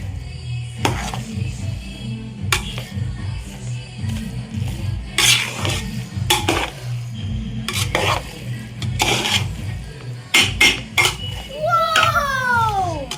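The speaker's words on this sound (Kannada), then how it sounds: "ಚೆನ್ನಾಗಿ ಮಿಕ್ಸಿಂಗ್ ಕೊಟ್ಕೊಳ್ಳಿ" A spoon scrapes and stirs wedding-style biryani rice in a pot, giving repeated rough, rasping strokes close by in an uneven rhythm, with a few sizzling moments toward the end.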